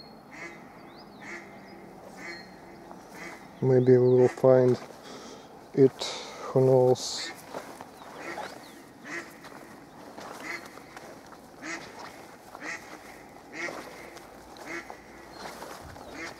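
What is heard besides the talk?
duck quacking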